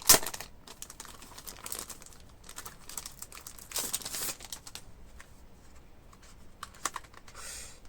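Someone opens a Super Junior 2020 season's greetings package, making faint, irregular crinkles, rustles and light tapping clicks of plastic and paper packaging at close range, with no voices.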